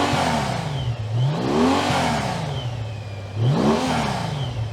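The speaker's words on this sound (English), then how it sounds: "You can kind of hear that exhaust noise when it's coming off the throttle." Honda Rune motorcycle exhaust rising and falling as the rider rolls on and comes off the throttle, two loud, smooth revving swells with a steady low drone between them, close and alone with no talk.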